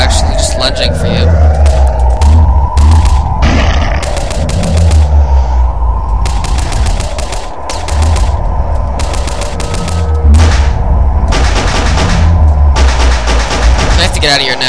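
Pistol fire aimed at zombies in the Boxhead video game: loud, rapid bursts of shots in clusters with short gaps, heard close and sustained, with someone talking underneath.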